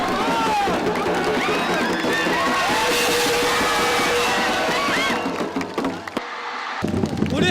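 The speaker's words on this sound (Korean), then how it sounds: "통쾌한 득점 장면이 펼쳐지자 응원자들은 열광적인 환호를 올리며 선수들을 축하해 주었습니다" Crowd at a North Korean football match roaring as a goal is scored, a dense, loud wall of cheering with whistles, whoops and shouts that fades out near the end.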